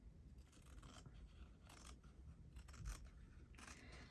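Scissors slice steadily down through fabric for a church-tower piece in a stitchery composition, a close, quiet run of repeated snipping and scraping blade strokes with no talk.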